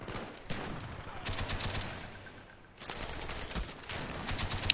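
Sustained automatic gunfire in Call of Duty: Black Ops during a multiplayer Gun Game match, with long loud bursts that pause briefly and then resume, close and dominant.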